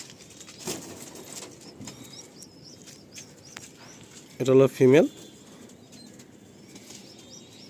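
A female pigeon gives two loud, close bursts of wing flapping, preceded by soft background rustling and faint murmuring, with a brief spoken remark at the start.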